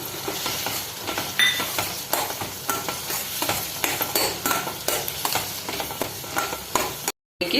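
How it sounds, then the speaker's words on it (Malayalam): Chili powder and coriander powder sautéed in a pan for a cheera thandu pulinkari, with repeated spatula strokes scraping against the pan over a steady sizzle, close and alone, briefly dropping out near the end. "നന്നായിട്ട് വഴറ്റി കൊടുക്കാം"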